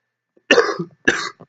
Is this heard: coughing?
yes